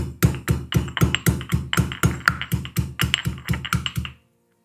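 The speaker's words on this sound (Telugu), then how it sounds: "కొన్ని వెల్లుల్లి తీసుకొని కచ్చాపచ్చాగా దంచండి." Garlic is pounded coarsely in a steady run of about twenty sharp, even thuds that carry on for four seconds before stopping abruptly, close and alone.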